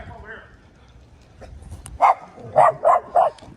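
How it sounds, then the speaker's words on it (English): A small dog barks four times in quick succession on a residential street across from a house, sharp yaps standing out loudly after a quieter stretch of street ambience. "The little doggy trying to chase me."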